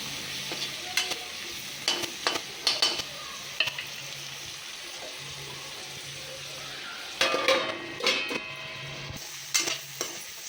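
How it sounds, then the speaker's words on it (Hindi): Tomatoes and green chillies cooking in a pan, with a steady sizzle throughout and bursts of stirring and utensil scrapes near the start and again toward the end. "2-3 मिनट सिर्फ टमाटर पकेंगे"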